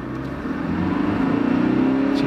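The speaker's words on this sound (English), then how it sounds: "We're going to do a uphill standing start in the 1GD Auto 70" A Toyota LandCruiser 70 series with the 1GD diesel and automatic transmission pulls away from a standing start uphill, its engine drone rising steadily and growing louder and throatier as it accelerates, heard from inside the cab.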